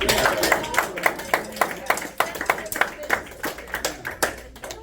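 A small group claps for a student soloist at a school jazz festival clinic, sparse and rhythmic rather than a full ovation. The individual claps are close and distinct, and some talk runs underneath.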